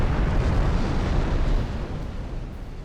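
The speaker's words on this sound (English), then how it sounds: "There's another flash fire, actually." Ship magazine flash fire blowing up in the naval game Ultimate Admiral Dreadnoughts, a sustained roaring explosion rumble that stays loud and dense for about three seconds, easing slightly toward the end.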